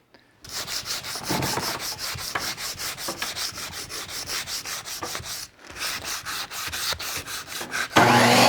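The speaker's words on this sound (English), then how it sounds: "I'm going to start sanding" Rhythmic back-and-forth sanding on a wooden loveseat, steady rasping strokes close by, pausing briefly before resuming.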